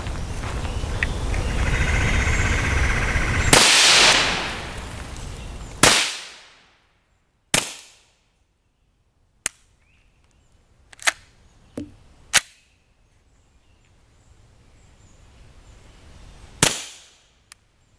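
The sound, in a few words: suppressed FN Five-seveN pistol firing subsonic SB193 rounds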